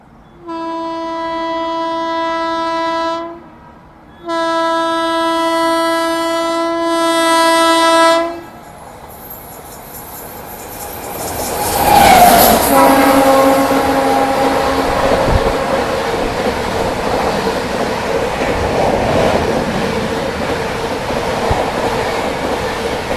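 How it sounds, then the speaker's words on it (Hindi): Howrah Rajdhani Express announces itself with two long blasts of its horn, then rushes past at speed in a loud whoosh of rolling wheels and rattling coaches that carries on steadily. "ये हवा को चीरते हुए गई अभी हावड़ा राजधानी।"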